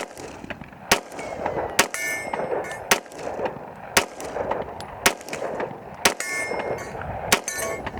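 An FN Herstal 509C pistol fires at a target in a steady series of about nine sharp, loud shots, roughly one per second, with metallic clangs ringing after several of them.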